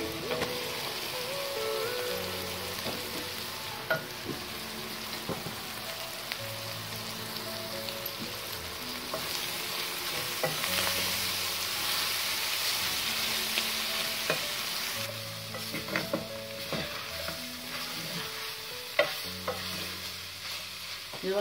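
Fresh tomatoes sizzle in a pan for spaghetti bolognese as a spoon stirs them, scraping in repeated strokes over a steady crackling fry, with no talking.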